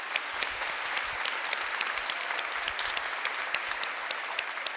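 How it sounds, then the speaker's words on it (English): An audience at a college convocation claps steadily in a sustained, dense round of applause, with no voices over it. "So let's give them a round of applause."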